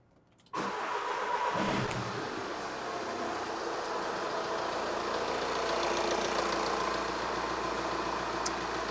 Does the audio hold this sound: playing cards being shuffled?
no